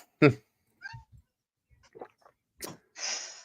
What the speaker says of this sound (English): my cat's all squeaky and crying